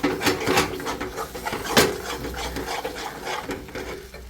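Ginger garlic paste is stirred in a mutton curry pan, with close scraping and rubbing of a spoon against the pan's base in an uneven rhythm and a few sharper knocks.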